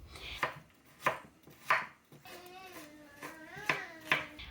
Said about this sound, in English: I grab carrots and cut them into small cubes.